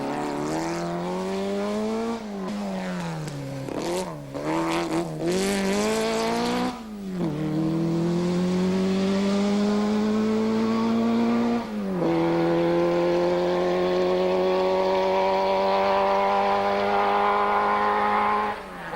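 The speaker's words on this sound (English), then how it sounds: "The German ace driving the wheels off his factory-prepared Porsche 356 GT." Factory-prepared Porsche 356 GT rally car driven hard on open country stages, its engine loud and near, revving through several quick gear changes and then holding long climbing pulls between shifts.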